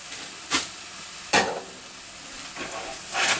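Kidney beans and corn stirred in a hot sizzling pan, a steady frying hiss broken by three or four sharp scraping stirs of the spoon, close and clear with no talk.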